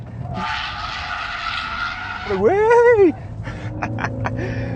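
A Ford Focus pushed hard around a race circuit, engine droning steadily before tyres let out a loud, wavering squeal for about a second, followed by lighter engine and road noise.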